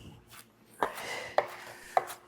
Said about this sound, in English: I'm chopping the parsley.